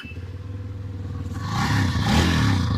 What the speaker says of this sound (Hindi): देखो आइडल पर साउंड सुनो, अब एक्सीलेटर देने के बाद ओके, तो बहुत ही बेसी साउंड ये क्रिएट करती है